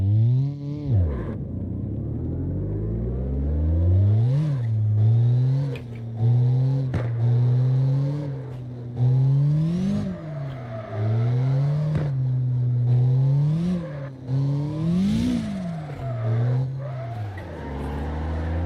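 Car engine in CarX Drift Racing, revving hard and falling back again and again through drifts, with rising and falling pitch sweeps, bursts of tire skid and a constant loud rumble.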